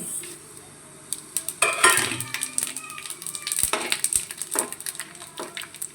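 Whole fennel, coriander, fenugreek, bay leaf and cinnamon roasting in hot oil, with close scraping stirs, clinks of a utensil against the pot and a light crackle that builds and stays busy.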